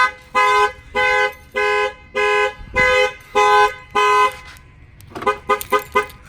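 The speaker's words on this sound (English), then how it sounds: "the alarm will go off." A 2012 Ford Mustang's Clifford car alarm blares in seven steady, evenly spaced tones, loud and near, followed by a quick burst of shorter chirps.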